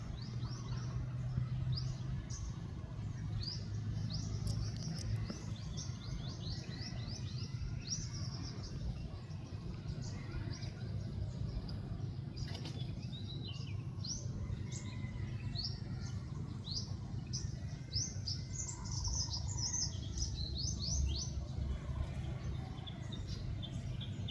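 Small birds chirping on a farm, quick high repeated tweets scattered through the stretch, fairly distant and faint over a low outdoor rumble.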